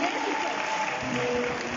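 Applause from a church congregation at a worship event for the Levites of Grace ministering, a steady dense wash of clapping throughout with a faint tonal element, no distinct speech.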